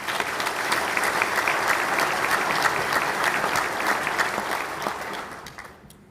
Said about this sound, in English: So you all wave, please, and give those folks a round of applause.